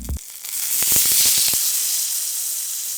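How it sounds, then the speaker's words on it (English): A sharp impact gives way to loud, steady sizzling and crackling, like food landing in a very hot pan. "This is the sound of a piece of fresh, pinkish red, wild-caught salmon hitting a sizzling pan."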